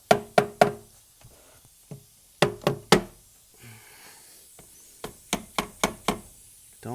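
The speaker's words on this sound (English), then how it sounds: "what I'm going to do is I'm going to do some light taps with a old dead blow mallet" An old dead blow mallet gives light taps to a stuck, brittle plastic part during valve seal work on a 2005 Dodge Dakota 3.7; close, sharp knocks land in quick clusters of two to four with short quiet gaps between.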